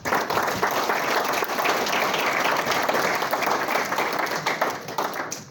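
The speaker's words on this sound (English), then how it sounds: "Huge round of applause for our experts." A crowd at a property investment club event gives a round of applause for the experts, dense and lively clapping that swells early, holds steady, then thins toward the end.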